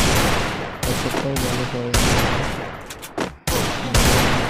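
Bursts of rapid automatic gunfire in a shooting video game, loud and close, with several sharp cut-off volleys and brief gaps; someone speaks briefly.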